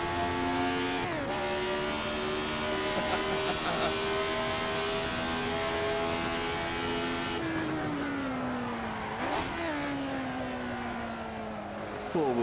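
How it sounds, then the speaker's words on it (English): A race car in the Assetto Corsa driving sim, played in VR, holds a steady, loud engine drone through a four-wheel slide, its pitch sagging and recovering as the car drifts. "Four-wheel slide"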